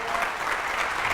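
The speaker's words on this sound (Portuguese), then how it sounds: "Dá um aplauso a Jesus aí." Church congregation applauding at a service, a steady, dense wash of clapping filling the whole moment without pause.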